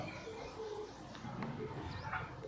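Pigeons or doves on a farm give soft cooing calls, with a few short chirps mixed in, fairly faint against a low background hum.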